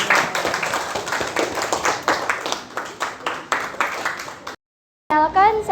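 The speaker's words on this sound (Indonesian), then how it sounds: "Silakan aplaus untuk kelompok 1 yang maju." A class of eighth-grade students claps for the group coming forward to present, giving several seconds of dense clapping that stops abruptly and is followed by a brief voice.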